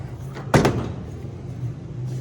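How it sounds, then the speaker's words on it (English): Door on a combine harvester being put back in place and latched down, one sharp loud metallic knock followed by a brief clatter, then a steady low engine hum continues. "you put the door back on, latch it down, and we're good to go"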